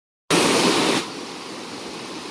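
Fast-flowing water rushing loudly at a zoo park, a steady broadband roar that starts abruptly, then drops to a softer continuous rush after about a second.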